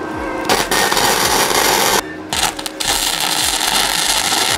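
A Mecafer Mikro MIG inverter welder fuses steel from an IPE beam section, its loud crackling, sputtering arc running close in bursts with brief pauses between them.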